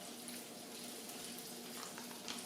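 Onion sizzling on a George Foreman grill, a steady, soft crackle of frying with no pauses and no voices.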